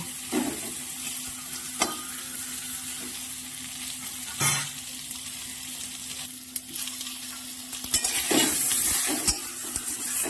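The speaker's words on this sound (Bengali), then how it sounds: "এবার বেগুনগুলো দিয়ে ভালো করে ভেজে নেব।" Eggplant frying with green chili in a pan, a soft constant sizzle broken by occasional spoon scrapes and clinks against the pan, heard alone without talk.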